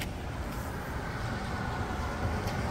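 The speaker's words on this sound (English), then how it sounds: "here come a car. I'm going to wait." A car passes on a city street, a steady close road rumble with broadband traffic noise that holds evenly throughout, with no voices over it.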